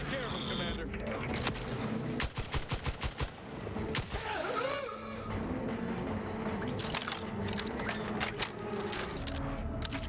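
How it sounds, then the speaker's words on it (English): An LMG fires in The Outer Worlds 2, its rapid bursts of evenly spaced shots cutting through busy game noise, with a clear fast rattle partway through and more scattered shots later, under someone talking. "We're still using a World War I LMG, you know, at least the model in a sci-fi game."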